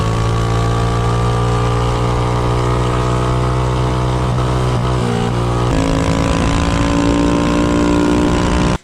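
A Ghost 212 minibike engine, fitted with a 24mm Nibbi carburetor, runs steadily and loud and close, holding a droning idle before its pitch and tone shift partway through, then cutting off abruptly at the end.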